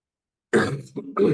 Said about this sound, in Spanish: perdón por la tos, pero no la puedo sacar